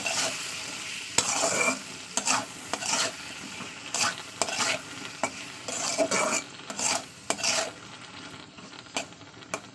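Shrimp, taro and potato are stirred in a hot pan with a metal spatula. Repeated scraping strokes rasp across the pan over a continuous sizzle of frying, and the strokes come in an uneven rhythm.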